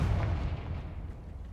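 A Confringo spell explodes in the Hogwarts Legacy video game: a single deep, rumbling blast that booms loudly at first and then fades into a long low tail, with no talk.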